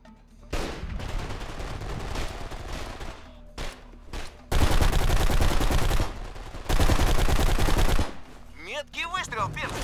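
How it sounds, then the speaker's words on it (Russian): Rapid bursts of automatic gunfire from the video game Blacksite Area 51, loud and dense in several stretches with short pauses between volleys, while voices shout in between. "выстрел, Пирс!"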